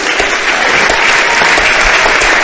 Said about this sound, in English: So please join in a round of applause for our officials this evening.